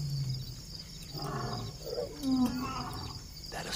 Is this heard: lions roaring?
yes